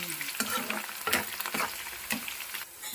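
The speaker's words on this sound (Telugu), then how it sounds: "ఇంకా కాకరకాయ ఫ్రై అవుతానే ఉంది" Sliced bitter gourd fries in hot oil in a pan with a steady crackling sizzle, broken by repeated scraping strokes as it is stirred, close and continuous with no talking.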